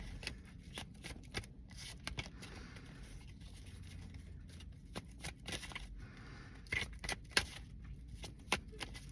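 Tarot cards are shuffled and drawn in a quiet room, with soft repeated riffles, snaps and brushing slides of card stock, close and faint, without speech.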